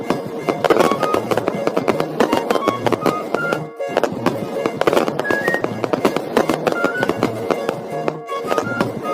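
Rapid strings of firecrackers popping in dense, crackling bursts, loud and continuous with a brief lull partway through.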